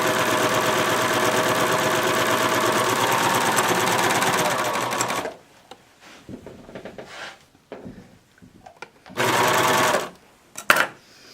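A serger stitches pintucks in soft batiste fabric, whirring steadily and loud for about five seconds, then stopping and giving way to short bursts of stitching and quieter handling sounds.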